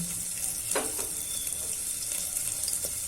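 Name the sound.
mustard seeds and cumin added to hot oil, sizzling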